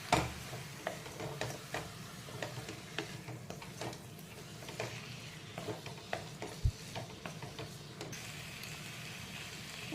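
Green chili, ketchup and soy sauce being stirred together in a pan, giving a steady faint scraping and soft sizzle with a few sharper spoon clicks, no talking.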